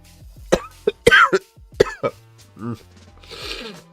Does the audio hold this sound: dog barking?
no